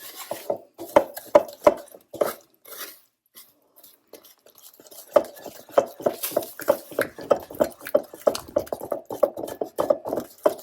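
Oregano is whisked into a beaten egg mixture for a frittata. A utensil makes quick, close taps against the bowl in bursts, with a short pause before the fast, steady beating starts again.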